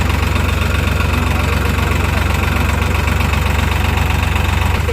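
A tractor engine runs in low gear on a village water-hauling trip, giving a loud, steady, close-up chugging drone with a rapid, even knock and no pauses.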